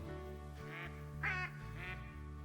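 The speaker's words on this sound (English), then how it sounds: "We got a couple of nice flock of mallards circling us here above." A flock of mallard ducks quacks overhead while circling, three or four short nasal quacks spaced out over a steady background, faint and distant.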